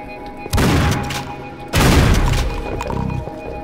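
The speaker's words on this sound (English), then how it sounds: "Lots of explodey things." Two heavy, booming explosions in the video game Painkiller Black, loud and close, each followed by a rumbling, crackling tail of debris.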